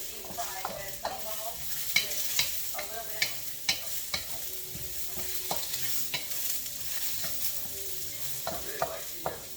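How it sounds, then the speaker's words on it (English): Kimchi fried rice sizzles steadily in a hot pan while a utensil stirs and scrapes it in regular clinks and pushes, close and moderately quiet, with no talking. "we're going to put this kimchi rice in here and keep frying"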